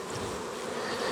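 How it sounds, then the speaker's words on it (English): Honey bees buzzing close up in a continuous hum as a hive frame is shaken to clear them off. "I'm going to shake these bees off because there's no cells on here anymore."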